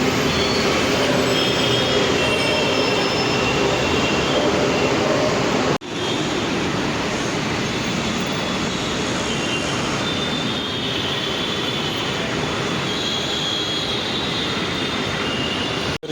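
A train rolls through the railway station at Borivali, Mumbai, with a steady, loud rumble of wagons and wheels that carries on for the whole stretch, briefly broken by one sharp jolt early on.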